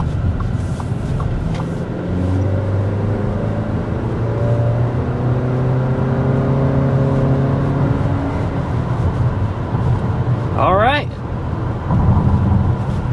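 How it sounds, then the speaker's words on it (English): A 2024 Audi Q3 with a turbo four-cylinder accelerates hard, the engine note rising through rising gear tones with a brief shift whoosh near the end, heard from inside the cabin. "let's go ahead and start with a hard acceleration and see what this powertrain is made of"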